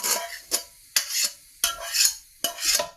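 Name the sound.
softened onions stirred into potato paratha filling mixture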